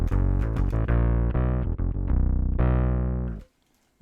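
Bass guitar run through a Boss OC2 octave pedal and a Gojira octave-up pedal, filter engaged, plays a dense, buzzy synth-like riff of quick staccato and held notes, loud and close, then cuts to silence near the end.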